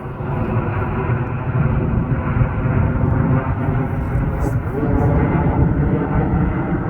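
Airliner jet on the runway approach path with landing gear down, a steady broad roar sustained throughout at moderate loudness, with people talking intermittently over it.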